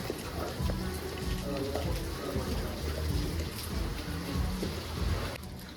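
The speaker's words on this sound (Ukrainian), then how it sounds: "І тут у нас сонечко, дощ і сонце." Rain patters steadily under sunshine at a beach restaurant, forming a soft continuous hiss beneath someone talking throughout.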